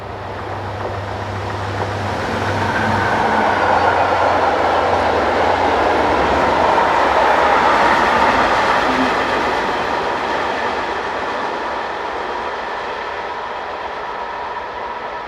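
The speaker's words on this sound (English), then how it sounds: "a Class 2016 diesel belonging to the engineering company RTS, heading a short maintenance train towards Vienna" A heavy Class 2016 diesel locomotive rumbles as it hauls a short maintenance train past, swelling to a loud peak midway and slowly fading, with steady wheel noise and no voices.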